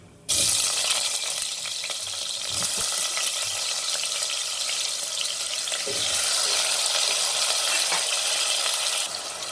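Potatoes hitting hot oil with browned cumin for Sindhi aloo macaroni sabji, a sudden loud sizzle that settles into steady close frying hiss, with a brief stir partway through.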